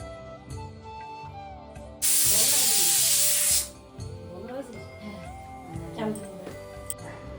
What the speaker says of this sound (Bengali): প্রেশার কুকারের ঢাকনা লাগিয়ে দিয়েছি এবারে প্রেশারটা সিটি দিয়ে নিই